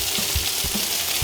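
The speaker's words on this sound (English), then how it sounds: "As we are frying our rosti on this pan" Steady hissing sizzle of potato rosti frying in hot oil in a pan, close up, with a few soft thumps and bubbling pops.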